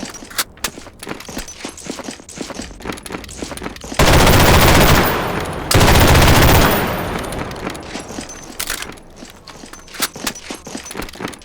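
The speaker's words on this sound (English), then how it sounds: "they got the MG34. World War II era weapon" Long bursts of rapid, loud MG34 machine gun fire ring out in a Garry's Mod firefight, broken by individual shots and other clatter before and after, with no talk.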